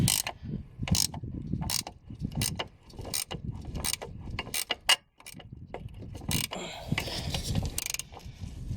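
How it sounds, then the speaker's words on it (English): Wrenches ratchet and clank against the upper control arm bolts of a 2008 Audi S6, a rapid series of sharp metallic clicks and knocks close by, in bursts with brief pauses, no talk. "So I went and got a second wrench. Just that way we can loosen these up."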